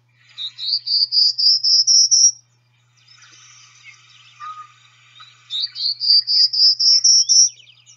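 Another male prairie warbler gives two rising series of thin buzzy notes, each climbing step by step, with a soft stretch of distant birdsong in between.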